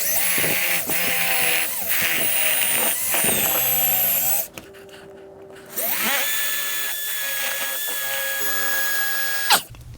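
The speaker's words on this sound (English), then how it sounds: "I'll use the included drill bit that came with the sensor to drill the holes" A power drill whines loudly as it bores holes into a floor, cutting out in the middle for a pause, then spinning up again.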